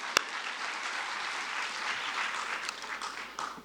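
Steady applause from a gathered audience at a Vishwamangalya Sabha event, broad and continuous for several seconds, opening with one sharp clap and tapering slightly at the end, with no talking.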